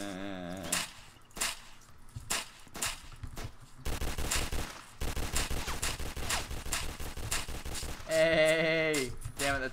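Gunfire in the online survival game Apocalypse Rising during a group battle, rapid bursts of shots in clustered rhythms, fairly loud, with a bleating-like tone at the start and a musical chime near the end.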